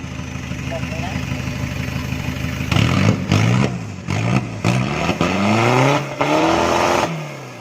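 A Chevrolet with double headlights revs hard in a tire shop, its engine roaring in repeated bursts that climb and fall after a rough idle, with a voice talking briefly at the start.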